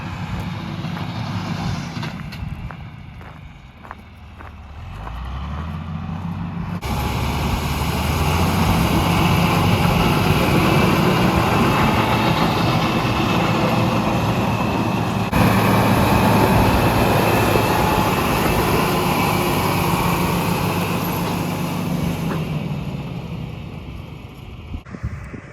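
Tractor engine running steadily while grading a gravel road in the woods, a continuous low rumble that rises and holds loud through most of the stretch, with wind-like broadband noise over it.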